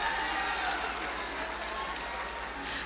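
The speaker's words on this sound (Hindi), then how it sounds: "जोरदार तालियां।" Applause from a crowd at a public government event in Bihar welcoming a Union minister, fairly faint and distant, a steady wash of clapping with some background murmur.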